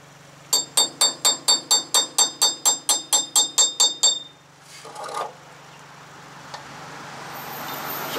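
Fourteen quick, evenly spaced metallic hammer blows on a chisel against a ball joint cover on a 2009 Tacoma 4WD front suspension, ringing sharply and close, then a brief scrape and quiet garage noise.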